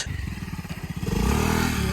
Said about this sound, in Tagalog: yan yung motor namin